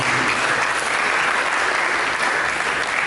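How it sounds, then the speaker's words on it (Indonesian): Audience applause fills a church sermon hall, a dense, steady wash of clapping from many hands that holds at an even loudness throughout, with no talking over it. "Mari kita berikan tepuk tangan."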